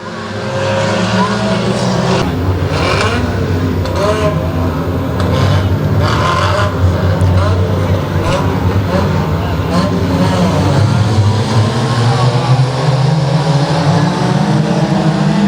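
Dirt track race cars at Boothill Speedway roar together in a dense, continuous engine drone, with rising and falling passes and occasional scrabbling bursts, while an announcer talks over the racing throughout.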